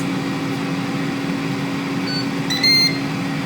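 A short series of high electronic beeps from an air fryer as start is pressed, clear against a steady appliance hum, comes in near the end.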